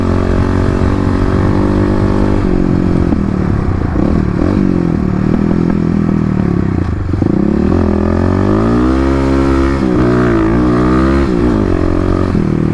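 A Kawasaki KLX250 dirt bike ridden over gravel, its single-cylinder engine droning loud and close with rising and falling revs, while tires crunch and rattle across loose stones throughout.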